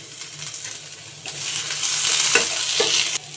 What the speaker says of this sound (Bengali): আর কাঁচা লঙ্কা চেরাটা দিয়ে একটু নাড়াচাড়া করে নেবো